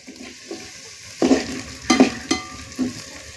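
Onion and slit green chilies fry in a pan for a sardine masala, a low quiet sizzle broken by four short, louder stirring scrapes spaced about half a second apart.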